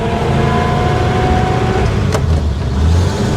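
A 1953 Pontiac Chieftain with a straight-eight engine drives along with a loud, steady engine drone as it shifts into second gear, marked by a brief mechanical clunk partway through.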